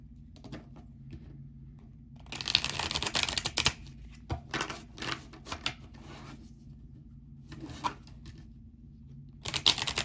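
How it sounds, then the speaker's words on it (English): A deck of tarot cards is shuffled and drawn nearby, with bursts of crisp riffling and snapping card noise separated by quieter handling and pauses. "Let's pull a few cards"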